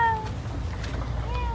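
A small child imitates a cat's meow with two short, whiny cries, one at the start and one near the end, over a low background hum.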